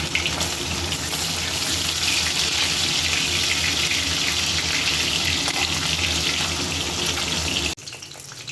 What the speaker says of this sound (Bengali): কড়াইতে দিয়ে দিলাম তেল এবারে মাছগুলো ভেজে নেব